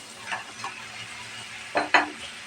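Fried koi fish pieces laid into cooked-down masala in a pan, a quiet background hiss broken by a few soft scrapes and two louder wet clatters near the end.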